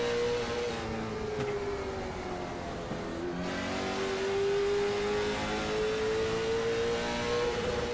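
A late model stock race car engine drones steadily on track during the Georgia Peach 125 at Lanier National Speedway. The note rises and falls slightly as it pulls, staying loud and continuous throughout with no talk.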